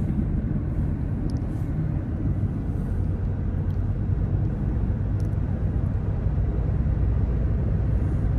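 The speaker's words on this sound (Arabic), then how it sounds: "هذه الطيارة نازلة المطار، طيارة تبع دي اتش ال" A DHL cargo plane lands at an airport in Bahrain, heard as a loud, continuous low rumble that stays steady throughout, with no talk.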